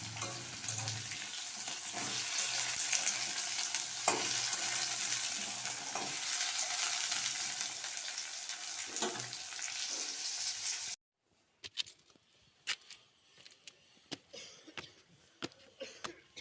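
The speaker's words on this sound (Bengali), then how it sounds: "তো দেখো আমি সোয়াবিনটা এখানে রান্না করে নিচ্ছি" Soybean chunks fry in a pan with a constant close sizzle and occasional stirring scrapes for about eleven seconds, then the sizzle cuts off, leaving scattered soft clatter and handling noises.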